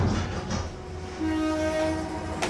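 Indian passenger train carriage rolling on rails, a steady close rumble with a sustained horn-like tone sounding partway through and a brief metallic squeal near the end, no voices.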